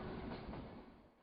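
A steady rumbling clatter of the Himalayan Queen narrow gauge toy train rolling along the tracks toward Shimla, India, dense and continuous, fading slightly toward the end with no voices.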